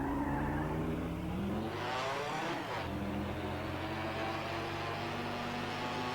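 A Ferrari Formula One car modded into GTA 5 screams at full throttle, its high engine note climbing, dipping briefly at a gear change, then holding a loud, steady howl.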